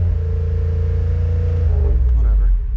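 Chevrolet Monte Carlo SS V8 held at high revs against the rev limiter, a loud steady drone that stutters near the end, with voices talking over it.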